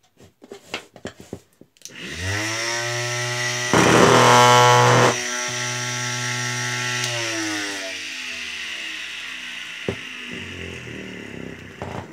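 A grinder machine powered by a 14.8V 4S2P lithium-ion battery pack spins up with a steady high-pitched motor whine, briefly louder mid-run, then winds down and coasts to a stop, with a few handling knocks before and after.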